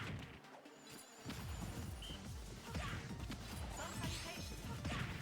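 A grenade explodes during a Super Smash Bros. Ultimate tournament match between Snake and Wii Fit Trainer, heard as crashing bursts layered over dense game effects. The sound continues for several seconds with faint voices in the background.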